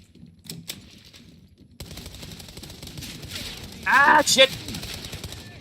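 A short automatic burst from the online shooter World War 3 rattles out in a tight rapid cluster, loud against low game ambience, and a player swears nearby.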